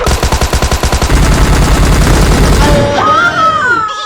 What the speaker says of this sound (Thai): ยิงมั่วๆก็โดนครับ